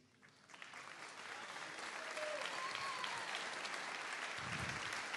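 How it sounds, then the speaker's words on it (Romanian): Audience applause for a guitarist on stage at the Stele Românești gala in Timișoara swells from a quiet start into steady, dense clapping that fills the hall, with a few whistles and cheers mixed in. "aplauze pentru Nicu Patoi."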